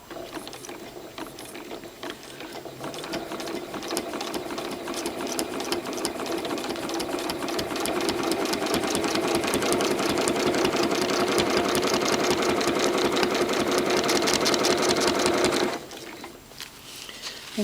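A sewing machine stitches free-motion quilting with a dahlia ruler template, a fast steady mechanical chatter that builds and runs loud and close for about fifteen seconds before stopping abruptly.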